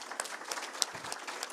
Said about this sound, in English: So can we have a round of applause for this amazing team?